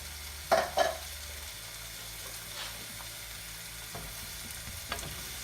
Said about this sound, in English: I'm going to give it a stir for approximately, I would say, 2 minutes.